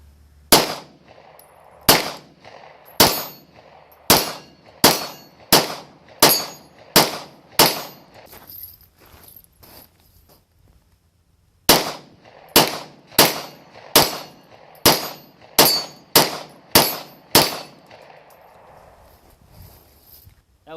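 Glock 19 pistol fitted with a safety lock firing reloaded rounds and Winchester white-box ammunition: two strings of sharp, loud, evenly paced shots, about ten each, separated by a pause of several seconds.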